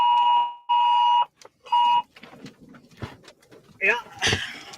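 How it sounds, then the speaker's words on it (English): Tornado warning alert tone during a Minnesota tornado outbreak: three loud, piercing electronic beeps in quick succession, followed by people talking. "We are tornado warned. You heard the beep. Tornado warning in this area."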